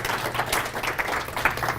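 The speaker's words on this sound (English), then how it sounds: "please give a warm round of applause for Samantha." Audience applause for a speaker at an academic health AI lecture, a soft steady patter of many hands clapping at moderate distance, fairly quiet and brief.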